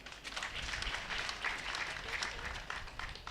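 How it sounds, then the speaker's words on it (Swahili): A crowd claps at the Kenya Methodist University (KeMU) masters graduation ceremony. The steady, continuous applause sounds distant and fairly faint, like a large hall heard from afar. "Tuwapigieni makofi."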